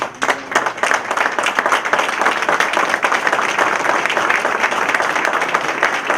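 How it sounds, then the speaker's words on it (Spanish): A large audience applauds steadily at a union seminar on international trade unionism, dense sustained clapping filling the hall with no pauses. "les quiero pedir un fuerte aplauso"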